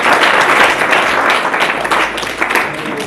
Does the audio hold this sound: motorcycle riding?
no